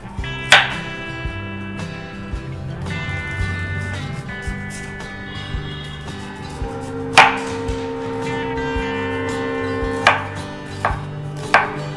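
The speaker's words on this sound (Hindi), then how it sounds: "दो प्याज लेने हैं, इसके भी हम छोटे छोटे टुकड़े कर लेते हैं" Two onions are chopped into small pieces on a cutting board, giving sharp, close knife strikes spaced irregularly over a low background hum, with a few louder thuds standing out.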